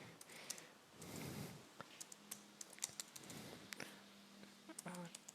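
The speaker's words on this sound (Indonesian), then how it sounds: "Pertama kali saya akan mengetikkan sebuah program sederhana." Quiet typing on a computer keyboard, scattered light key clicks in irregular bursts after a soft rustle at the start.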